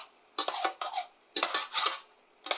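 A utensil scrapes browned bits from the bottom of a frying pan in a hospitality kitchen while a chorizo broth is being made, in three clustered bursts of sharp metallic scraping separated by short pauses.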